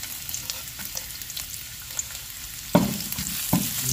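Ginger sizzles and fries in hot oil in a pan, a steady close crackle with scattered pops and a couple of louder stirring knocks toward the end, no talking.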